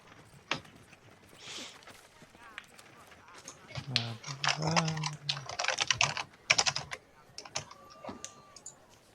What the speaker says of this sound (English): This is going to be a lot of typing.